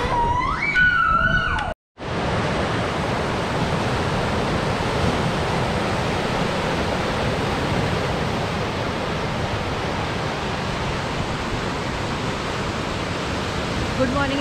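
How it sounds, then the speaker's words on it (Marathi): Rough sea at high tide on the beach at Nagaon surges as a steady, loud roar of breaking waves that runs without pause after a brief opening voice and a sharp cut. "आता आपण मस्त एक समुद्र बघूया खवळलेला"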